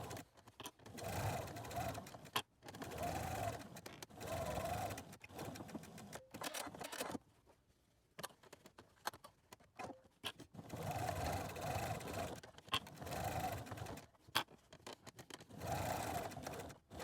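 A sewing machine stitches through three layers of fabric for a face mask. It runs in steady whirring bursts of about two seconds, with short pauses and one longer stop in the middle, close and even in tone.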